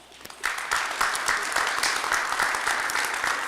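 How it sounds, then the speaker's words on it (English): At the 2022 Mayor's Community Service Awards, an audience welcomes Deputy Mayor Judith Thomas with applause that begins with a few scattered claps and swells into full, sustained clapping. "give Deputy Mayor Judith Thomas a warm welcome of applause"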